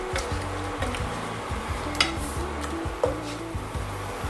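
Mushrooms cooking in a pan give off a steady, close sizzle, with occasional stirring scrapes and a couple of sharper knocks against the pan.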